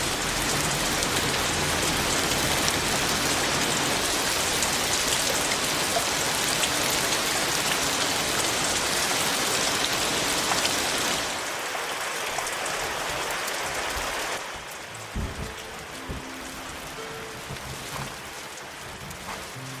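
Heavy rain pours steadily as a dense hiss, easing somewhat partway through, with scattered drips and splashes standing out near the end.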